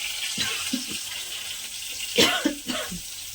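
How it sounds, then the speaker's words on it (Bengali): Dishes being washed under a running tap, with splashing water and a few sharp clatters and knocks of utensils nearby, some of them loud. The sounds come in uneven bursts and there is no speech. "চলো আগে বাসন পাটা ধুয়ে নিই"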